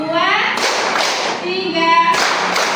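A group claps their hands in a counting exercise, producing a few sharp, fairly close claps mixed with voices speaking over them.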